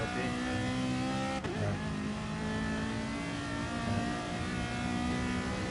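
A loosely set-up race car drifts through a container section in a racing video game, its engine droning steadily and loudly with a sustained revving tone throughout, alone without talk.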